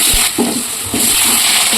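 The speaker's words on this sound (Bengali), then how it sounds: "এবার আলুগুলো ভেজে নেবো" Potatoes fry in hot oil with a loud, close, continuous sizzle and hiss, broken by a few soft stirring scrapes.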